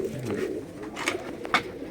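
Giribaj pigeons on a large farm give soft, low, rolling coos that overlap in a steady murmur, close by and with no talk.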